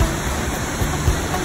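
Johnston Canyon's waterfall in Banff, Alberta, pours over limestone, giving a loud, dense, steady roar of rushing water that fills the whole short stretch.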